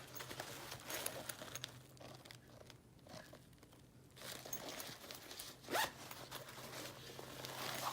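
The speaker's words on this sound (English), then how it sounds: "Has a zipper here." A zipper on a Supreme SS19 shoulder bag is drawn in a few scratchy, rasping pulls, with soft fabric rustle and handling between strokes, close and fairly quiet.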